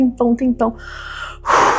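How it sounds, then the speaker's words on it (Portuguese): Heavy gasping breaths of a woman in labor during contractions, several quick rhythmic inhales followed by a longer breathy exhale, close and fairly loud. "Respirando"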